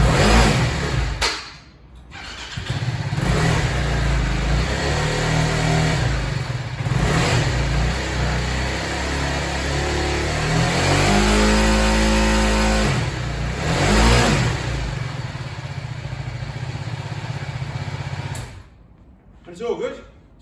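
A BMW G310R motorcycle engine with a revving problem is fired up and revved hard, rising and falling in pitch over a steady idle for about twenty seconds, with people talking over it.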